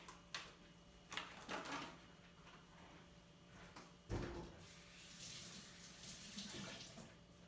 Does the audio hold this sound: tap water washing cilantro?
yes